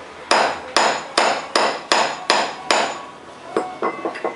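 Metallic hammer strikes on an engine part of a 2004 CG Titan motorcycle during an overhaul land at a steady pace, close and loud, then a few lighter, quicker taps with a changed, duller tone at the end.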